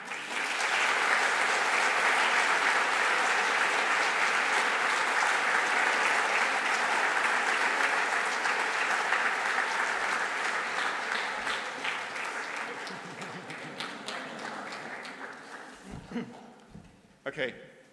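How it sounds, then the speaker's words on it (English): Conference audience at the DH2023 opening ceremony applauds in a long, full burst that gradually thins out, with a voice and a few handling knocks at the close. "that's a good reason to applaud"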